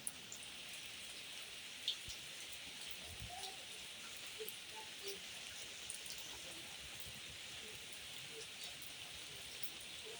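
Steady rain falls on a rural farm in the Brazilian sertão, a dense, even hiss of drops close around with occasional louder splashes, faint and continuous throughout.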